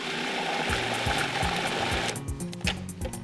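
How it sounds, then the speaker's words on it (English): A food processor whirs a batch of pesto with Parmesan cheese: a loud, steady motor drone with rhythmic pulsing and rattling, close up and without any talk. "Just give it a last whir."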